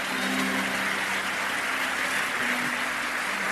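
A church congregation applauding during a sermon, a dense, even wash of clapping from many hands that continues steadily throughout.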